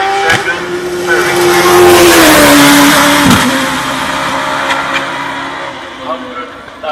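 Hillclimb race car leaving the start line at Shelsley Walsh during a British Hillclimb Championship run, its engine note rising and falling through the gears, loud and close, under continuous commentary.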